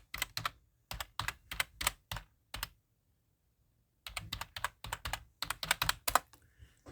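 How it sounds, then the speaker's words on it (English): Computer keyboard keys clatter in quick close bursts of typing, separated by a few seconds of silence, with no voices. "You can hear me typing in the background"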